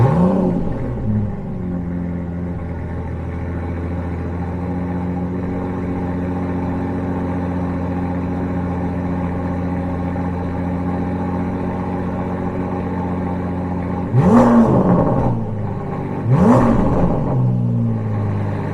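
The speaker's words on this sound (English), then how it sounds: "2019 Aston Martin DB11 AMR. This is the signature Halo car." A 2019 Aston Martin DB11 AMR engine idles with a deep, steady rumble, then gives two sharp revs that rise and fall near the end, close and loud with no talking.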